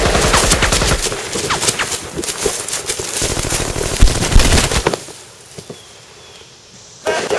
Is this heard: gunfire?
yes